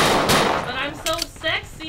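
Pistol shots in the World War II dinosaur shooter game Dino D-Day, a few sharp loud bangs in quick succession with short echoing tails.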